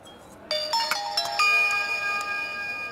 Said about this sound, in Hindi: माँ का फोन आया है